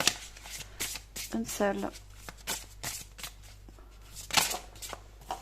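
Oracle cards are shuffled by hand in quick riffling, fluttering bursts nearby, while someone speaks briefly in French.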